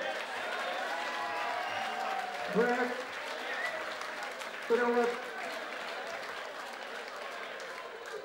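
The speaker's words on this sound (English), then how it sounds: "Give a round of applause, please." Crowd applause at a Thai-rules kickboxing title fight in Australia, a steady wash of clapping and cheering lasting throughout, with someone speaking over it from about midway.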